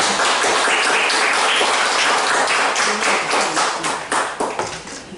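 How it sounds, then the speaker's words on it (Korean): A forum audience at a peace and unification lecture breaks into sustained, dense applause, loud and steady before thinning into scattered claps that fade toward the end. "여러분 큰 박수를 환영드립니다."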